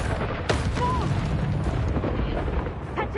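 A Confringo blasting spell in Hogwarts Legacy gives booming explosive bursts and rumbling impacts over dense game effects, loud and close, with a voice briefly heard.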